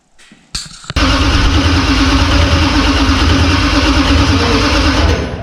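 A carbureted Chrysler 318 V8 cranks briefly, catches and fires, then settles into a loud, steady, rumbling idle that runs unbroken until it eases off at the very end.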